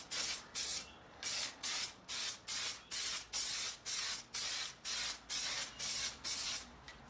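Coats of spray paint go onto a Mini car part to darken it, a close hissing aerosol in short regular bursts of roughly half a second each, about a dozen in a row with brief gaps and no talking.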